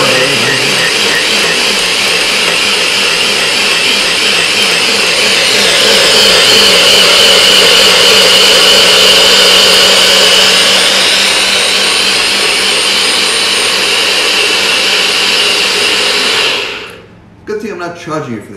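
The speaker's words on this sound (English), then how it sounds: "Watch a blender go off and make a racket." A loud blender whirs steadily for a long stretch, its pitch rising slightly midway, then cuts off abruptly near the end.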